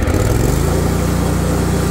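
An Exmark Quest 48-inch commercial zero-turn riding mower engine starts on choke and settles into a loud, steady, close running drone with a low rhythmic thump.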